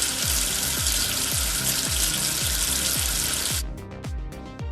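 Water gushes steadily in a kids' number-tracing game while soap is rinsed off, with a rushing, hissing stream joined by rhythmic low bubbling plops; the flow cuts off abruptly near the end, leaving a few soft drips.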